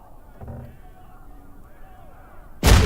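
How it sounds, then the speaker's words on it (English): An American hand grenade explodes in the video game Enlisted: a sudden, loud, close blast near the end, after a stretch of low, muffled battlefield ambience. "Pick up an American grenade. To pull the pin, you throw the grenade,"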